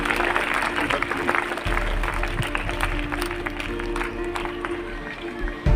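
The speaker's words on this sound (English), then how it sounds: "clapping should be, more clapping" Students in a school audience clap at a Hindi poem recitation event, with sustained, dense applause from a crowd that continues steadily and is heard close and fairly loud.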